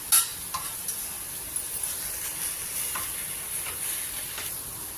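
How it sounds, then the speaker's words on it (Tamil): Mushrooms sizzle steadily in a hot pan with soft hissing and occasional light stirring scrapes, no voices. "மஷ்ரூமும் நல்லா வதங்கி வந்துடும்."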